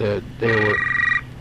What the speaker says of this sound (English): You have to excuse the phone calls.